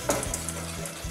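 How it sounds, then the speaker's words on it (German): Broth being stirred into a sauce in a pot, a soft, close scraping and sloshing swirl with a light sizzle, brief and fairly quiet. "Und rühren. und schön rühren."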